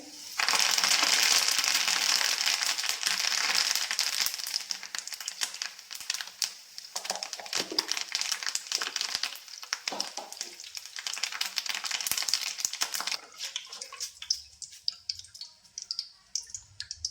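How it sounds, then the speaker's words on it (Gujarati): Loud, steady crackling sizzle of curry leaves frying in hot oil, dense and continuous, easing off toward the end with scattered pops. "થોડોક આપણે મીઠો લીમડો તળવાનો છે."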